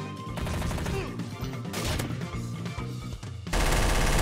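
Rapid gunfire in the game Trouble in Terrorist Town, a dense clattering of shots over a game soundtrack, loud and close, with a sharper burst near the end.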